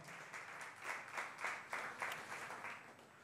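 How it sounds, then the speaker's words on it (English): A church congregation claps in praise, a steady rhythmic hand clap in regular pulses, fairly faint and distant. "give the Lord a mighty hand clap praise"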